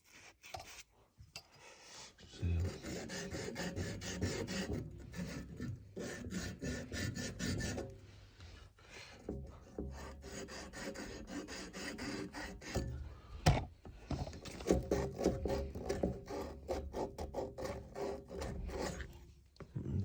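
Abrasive rubbed back and forth over a copper pipe end to clean it before soldering a radiator, a steady rasping scrub in rhythmic strokes, close and fairly loud, pausing briefly partway through.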